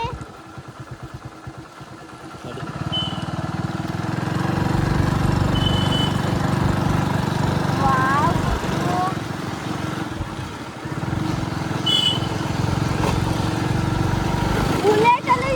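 A TVS motorcycle engine drones steadily as it rides, loud and close after a short spell of idling, with the pitch rising and falling a little over about fifteen seconds and a few faint chirps over it.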